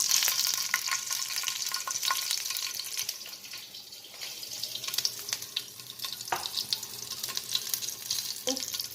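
A whole katla fish fries in mustard oil with a bright continuous sizzle, broken by a few scraping stirs and clinks near the end, heard close with no talking.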